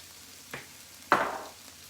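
Minced garlic hitting a hot skillet, with a brief light hiss and then a louder sizzle that fades over about half a second, close and without talk.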